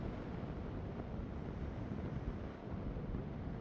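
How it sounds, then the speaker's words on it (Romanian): Strong, steady wind at a seaside campsite roars across the microphone, a dense low rumble with gusty buffeting and no voices. "A început să bată vântul destul de tare"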